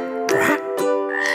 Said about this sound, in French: la grenouille dit